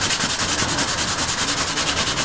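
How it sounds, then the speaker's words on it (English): Leather car seat filler on a Rover P4 is hand sanded with 320 grit sandpaper, a close, steady, rhythmic back-and-forth rasping with about ten strokes per second. "So the next step is to sand it with some 320 grit sandpaper."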